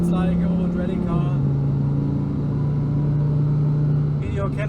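A steady deep engine drone from an Audi TT RS with the 2.5 TFSI five-cylinder, turbo-kitted and breathing through a 90mm exhaust, holds a low idle-like tone close by, easing slightly lower partway through.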